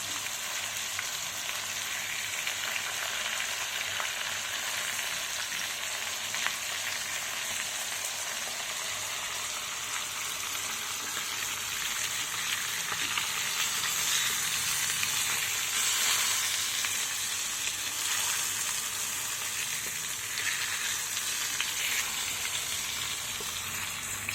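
Rohu fish fillets frying in oil in a pan, a dense, continuous crackling sizzle that stays loud and steady throughout with no voices.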